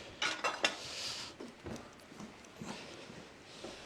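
A knife cuts around a camembert baked inside a bread loaf, giving a few quick clinks against a dish at first, then soft, sparse scrapes and taps at low volume.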